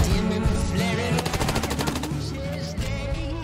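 Gunfire erupts in Wasteland 3 as a rapid machine-gun burst of evenly spaced shots, heard over loud, dense game music and sound effects.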